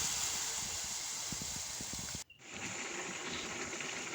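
Jackfruit curry broth pours steadily into a cooking pot with a close, continuous gushing splash. The pour cuts off briefly at its midpoint and then resumes as a softer trickle.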